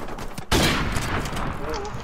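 A pistol fires in a shooter video game, a sharp close burst of gunfire followed by ringing reverberation.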